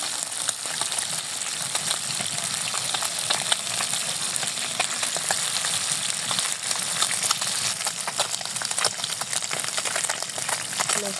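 Fish frying in a pan in a home kitchen, partway cooked on one side; a constant crackling sizzle of hot oil with faint clicks throughout, moderately quiet and close.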